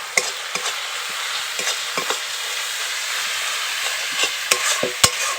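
Sea crab with spices and slit green chillies is stir-fried hard in a pan. A dense close sizzle is punctuated by repeated clanks and scrapes of the spatula.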